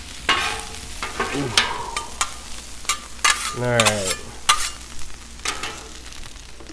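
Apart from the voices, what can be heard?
ground beef and green onions frying in a pan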